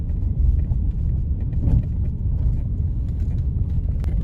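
Jeep on a night drive through the Dunagiri forest in the Indian jungle, its engine a steady low rumble close by, with no voices.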